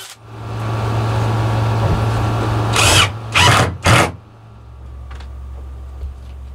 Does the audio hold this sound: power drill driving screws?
yes